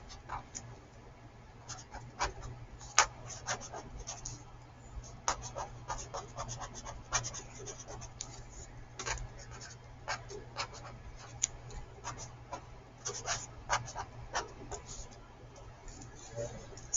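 A pen scratches across paper in quick, uneven strokes while rounding instructions are written out, close and soft, with a steady low hum underneath.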